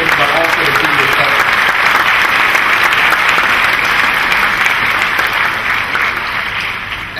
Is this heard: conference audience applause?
yes